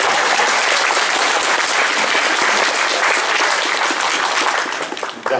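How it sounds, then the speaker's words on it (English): Audience at a Comic Con 2024 panel in San Diego gives sustained, dense applause from a large crowd, loud and continuous for several seconds before tapering off at the end. "That wasn't worth your applause."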